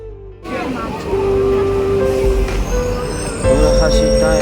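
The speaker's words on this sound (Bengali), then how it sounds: "আমার ট্রেনে উঠে গেলাম ট্রেন ছেড়ে দিয়েছে" Moving passenger train rumbling along with a loud, close low roar, a sustained wheel squeal tone and rattling carriage noise, with voices talking over it.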